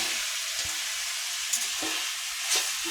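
Pork with tomatoes and potatoes sizzles in a pan, a steady hiss of frying with occasional stirring clicks and scrapes, close and continuous with no talking.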